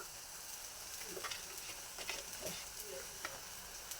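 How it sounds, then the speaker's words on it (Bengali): A mashed pointed gourd mixture fries in a pan with spices and turmeric, giving a soft, low continuous sizzle broken by a few light stirring taps. "সামান্য হলুদ গুঁড়ো দিয়ে ভালোভাবে আবারও মিক্স করে ভেজে নেব।"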